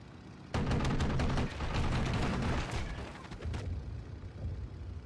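Strafing run by a ground-attack aircraft firing its 30 mm nose cannon in Steel Division 2, a dense rapid burst of heavy rounds followed by a second burst and rumbling impacts trailing off.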